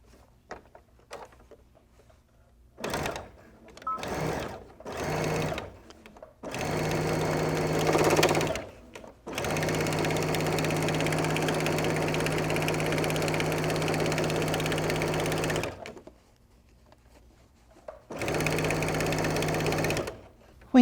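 A sewing machine stitches through multiple layers of an Amy Butler Beautiful Belle handbag, running in several bursts of varying length, including a long steady run of about six seconds, separated by quiet pauses.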